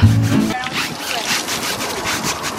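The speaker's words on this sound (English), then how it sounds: "we have a scrubber thing. I have a scrubber." Car scrubbed by hand with a scrubber at a car wash, a steady close rubbing and swishing with wet splashy texture that runs through the whole short stretch, opening with a brief voiced burst.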